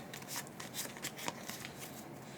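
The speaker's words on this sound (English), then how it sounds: "Give that a quick shuffle." Close, quiet shuffling of a small Button Shy game card deck, a brief run of soft papery riffles and taps in quick succession, alone without voices.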